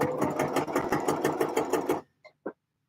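A sewing machine stitching rapidly in a steady, fast rhythm for two seconds until the bobbin thread runs out, then stopping abruptly, followed by two small clicks in near silence.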